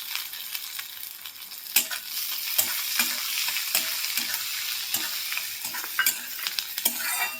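Onion and tomato fry in a pan with a little asafoetida, a quiet steady sizzle broken by repeated scraping stirs of a spoon, close and alone without talk.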